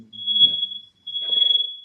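A sensitive indoor smoke alarm shrills in two long high-pitched bursts with a brief gap between them, loud and piercing, with faint background sounds underneath.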